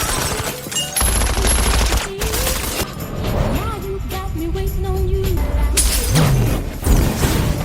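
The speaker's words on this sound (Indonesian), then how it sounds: "Morgan meraih botol minuman di dekatnya, melemparkannya ke arah sumber serangan, lalu menembaknya di udara. Botol itu meledak, memicu api" A film action scene where a thrown drink bottle is shot in midair and bursts into flame: sharp gunshot cracks and a smashing burst amid a busy, dramatic soundtrack with sustained tones.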